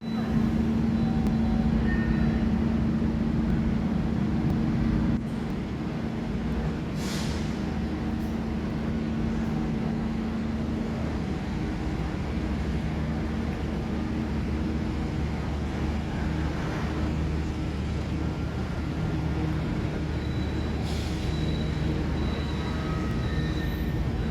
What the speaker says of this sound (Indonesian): Jam 16:21 kereta api Argo Wilis yang gua naik ini melanjutkan menuju ke Surabaya Gubeng